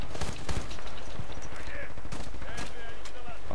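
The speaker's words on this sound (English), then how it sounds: "A sniper shot at me as well" Sharp gunfire cracks in the video game Battlefield Bad Company 2, including a sniper rifle shot, loud and close over a dense battle din with a few scattered reports.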